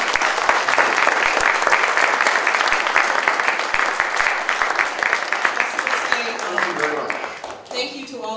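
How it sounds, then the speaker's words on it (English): A live audience applauds a guest speaker in a long, dense burst of clapping that fades toward the end as a voice starts talking. "let's give him another round of applause"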